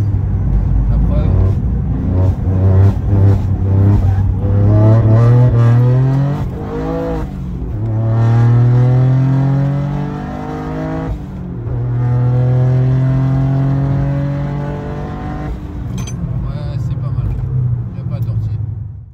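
A Toyota Yaris GR driven at night on cold tyres, its engine loud and close, revving up through repeated rising pulls with shifts between them, while someone talks over it.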